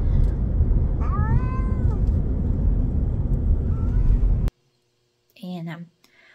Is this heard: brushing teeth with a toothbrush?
no